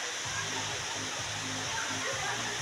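Steady rushing water of a mountain stream at a resort, a broad continuous wash of flow close by, with faint low voices murmuring underneath.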